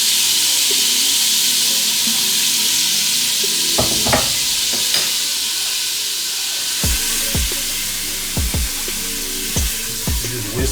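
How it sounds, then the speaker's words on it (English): Flour being whisked into hot, sizzling butter in a pan, with a steady loud sizzle and hiss overlaid by repeated scraping whisk strokes against the pan. "Just whisk it in."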